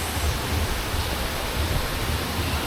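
Waterfall on Oahu, Hawaii, a steady broadband rush of falling water with a low rumble, continuous and fairly loud throughout with no voices.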